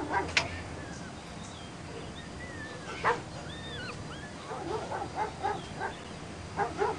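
Dogs barking and whimpering in the TKKG Verrat an TKKG video game, scattered yips and barks over a dim background with a few bird-like calls.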